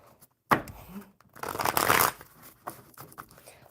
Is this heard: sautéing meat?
no